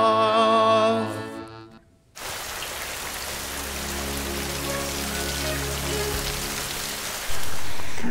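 Steady rain falls in an even, continuous hiss after a brief sung passage fades out, holding at a constant level with a low hum underneath.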